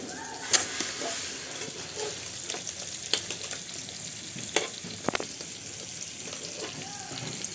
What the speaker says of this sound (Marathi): बगा अपनी मच्छी फ्राय हो चल पलट